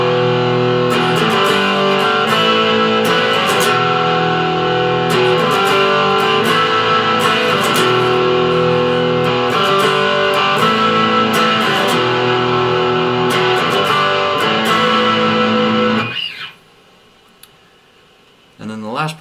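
Distorted electric guitar plays an intro, dense repeated strummed chords ringing loud and steady for about sixteen seconds before cutting off into near silence with a faint pick noise at the end.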